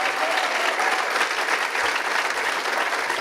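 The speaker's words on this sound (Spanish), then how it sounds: "Fuertes aplausos al Señor." A church congregation applauding loudly and steadily throughout, a dense continuous clapping wash with crowd murmur, no pauses.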